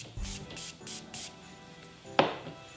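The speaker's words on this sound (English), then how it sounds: "I'm gonna take the Morphe" Four quick, close spritzes of Morphe makeup setting spray in a steady rhythm, followed by a pause and a single sharp click.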